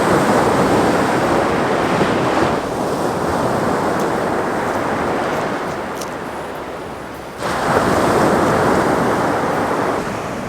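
Ocean surf breaks and washes continuously on a shoreline with heavy wind buffeting the microphone, one surge fading midway before another loud wave rolls in.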